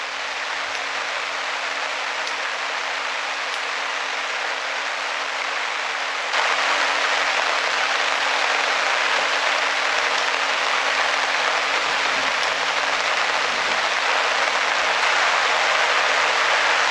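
Rain falls steadily at a campsite, a dense, even hiss of drops that gets heavier partway through and continues without pause, no talk.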